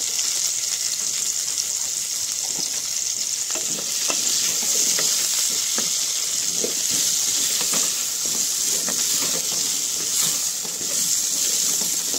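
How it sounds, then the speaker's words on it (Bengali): Potatoes seasoned with salt and turmeric fry in a pan with a loud, continuous sizzle. Repeated stirring scrapes and taps cut through the hiss, and no one speaks. "বন্ধুরা দেখুন আলুটা কত সুন্দর ভাজা হয়ে গেছে, লাল লাল হয়ে গেছে।"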